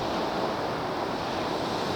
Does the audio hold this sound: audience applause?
no